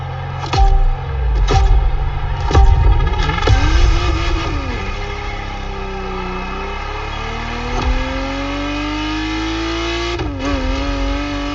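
A Ferrari Testarossa engine in the video game The Crew Motorfest revs hard in loud bursts, then settles into a sustained drone with rising and falling pitch sweeps as the car accelerates and shifts.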